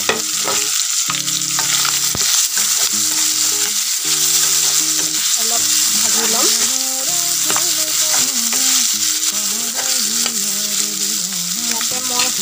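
Chopped potatoes sizzle steadily in a hot pan, fried until reddish, with a continuous close crackle and hiss under a melodic tune throughout and no talking.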